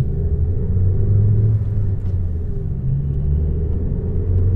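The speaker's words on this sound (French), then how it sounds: "Le ronronnement de la voiture devient un rugissement" A car engine hums with a steady low rumble that swells slightly in places. The sound stays continuous and fairly close throughout, with no clear roar.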